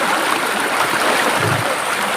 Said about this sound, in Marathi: हा खळखळ वाहणारा झरा